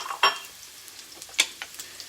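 A whole white onion sautés in clarified butter in a pan, giving a soft sizzle with a few sharp stirring clicks and scrapes, close and fairly quiet, with no talk.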